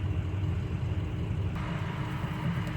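Late-night highway traffic on a five-lane road heading out of LA toward Palm Springs, heard as a steady low road and engine rumble from inside a moving vehicle, with no talk.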